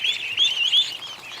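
Ducks roaming a yard lawn after release from their pen keep up a rapid, high-pitched chatter of peeps and chirps, near and steady, swelling briefly in the middle before easing off.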